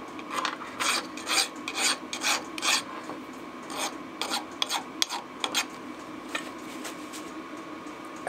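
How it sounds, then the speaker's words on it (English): A hand file deburrs freshly milled metal stock with a series of close, scraping strokes in an uneven rhythm, each rasp distinct, over a steady low shop hum. "it's a case of clean up and deburr after every cut"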